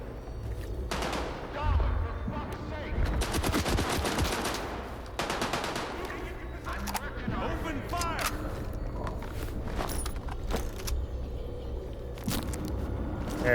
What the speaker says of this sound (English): he's opening fire on everyone